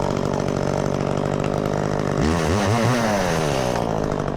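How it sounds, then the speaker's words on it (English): A chainsaw running steadily near the water while a dock is being removed, loud and close, holding a high buzzing idle before revving up and bogging down as it bites into wood. "just get the chainsaw out"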